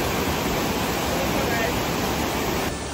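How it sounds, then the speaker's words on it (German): Loud, steady rush of a fast-flowing river close by in Iceland, a continuous broadband roar filling the whole clip without pause. "der Fluss ist direkt neben uns."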